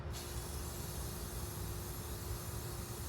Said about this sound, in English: What I usually do when I spray, I back up away from it